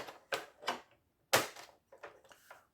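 Paper for a scrapbooking baby-keepsake box being cut at the table, a few soft, separate cutting strokes close by, the loudest one in the middle, with short quieter scrapes trailing off.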